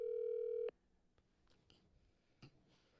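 A steady ringback tone on a phone line while calling Dave, one long continuous tone that cuts off abruptly, followed by faint clicks and line noise.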